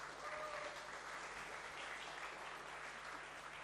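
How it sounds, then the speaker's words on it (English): Fairly quiet applause from a conference audience after a case study talk on mobile advertising, an even, continuous patter of many hands clapping at a distance with a faint low hum beneath. "let's get a round of applause for these two."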